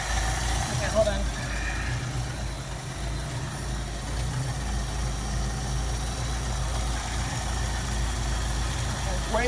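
A 1973 Mustang convertible's 302 V8 with a two-barrel carburetor idles steadily, a low, even rumble holding throughout, close by, while someone talks over it.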